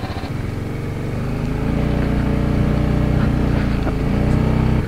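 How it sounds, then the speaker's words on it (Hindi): TVS Apache RR 310 motorcycle engine cold starting and idling, a loud, steady close-up engine drone that climbs a little after the first second and holds, with no speech. "Bike is cold starting."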